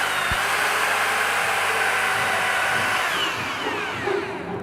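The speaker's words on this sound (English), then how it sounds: "now we're going to drill a quick hole here, and we're going to just test a little bit deeper into the screed." Power drill boring a quick test hole into floor screed, a steady close grinding whir holding for several seconds before easing slightly at the end.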